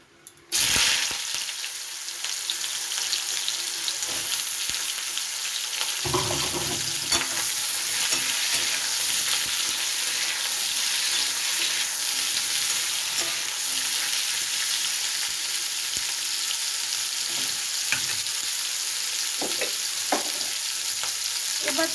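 Pointed gourd pieces dropped into hot oil, a loud, steady sizzle that bursts up after a brief quiet start and runs on continuously, with occasional clicks of stirring.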